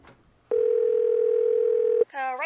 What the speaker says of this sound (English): It's hard not to pick up the phone when it's ringing.